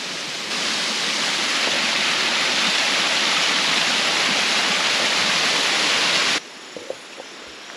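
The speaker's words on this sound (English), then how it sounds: "So I take a little walk to this mini waterfall and enjoy a little bit of the jungle here." A small jungle waterfall near Minca, Colombia, heard up close as a loud, steady rush of falling water that runs unbroken for about six seconds and then cuts off abruptly to quieter surroundings.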